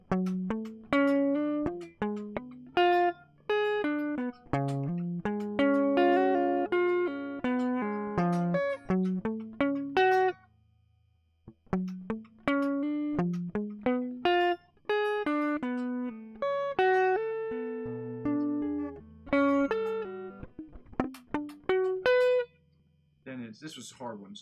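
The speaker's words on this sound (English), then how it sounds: "We're going to work on this OD riff," An overdriven electric guitar plays a riff as bursts of quickly picked notes in two long phrases, split by a short gap, ending in a brief scratchy flourish. The guitar is close and prominent, with no talking over it.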